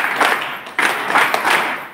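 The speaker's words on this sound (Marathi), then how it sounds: "आपण 3 टाळ्या वाजवून स्वागत करावं" A village audience claps in welcome: a short run of scattered hand claps from a crowd, fairly close and steady, with a sharp clap near the middle.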